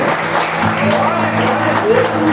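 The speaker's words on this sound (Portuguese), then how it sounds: "Aplauda Jesus nessa noite" A church congregation at an evening worship service claps and cheers to honour Jesus, a brief loud wash of applause with voices mixed in and some sustained tones underneath.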